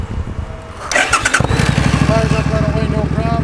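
A 2007 Suzuki Boulevard M50 motorcycle engine cranks briefly and then catches, settling straight into a loud, steady, close-up idle with a rapid low rhythmic pulse.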